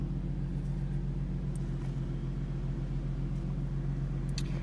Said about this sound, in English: Letting it warm up right now.